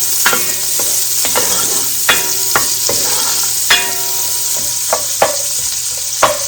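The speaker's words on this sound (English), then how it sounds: "Now I'm going to add my onion to this. And I am going to brown these nicely in the fat." Onions browning in rendered bacon fat in a pan, a steady close sizzle broken by repeated scrapes and knocks of a spoon stirring them through.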